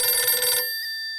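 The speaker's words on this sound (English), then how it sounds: "The phone rang twice." Telephone ringing in the Blacksad: Under the Skin video game, a single bright metallic bell trill that stops abruptly and leaves a fading ring.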